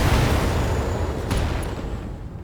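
LRM missile volleys launching in the BattleTech game, a loud, dense rumbling barrage that roars steadily across the whole stretch with a sharp burst near the middle, no voices over it.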